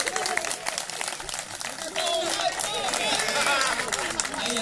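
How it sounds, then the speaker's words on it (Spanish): Applause from an audience at a national championship awards ceremony for a swimming competition, a steady wash of clapping with crowd murmur and cheering throughout, growing fuller and denser about halfway through. "Aplausos."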